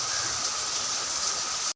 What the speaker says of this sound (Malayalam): ഇനി ഏതായാലും മഴയൊക്കെ ഒന്ന് തോരട്ടെ.